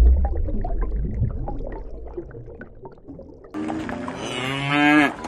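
A cow gives one long, loud, harmonic moo that swells toward the end, following a stretch of low rustling farmyard background.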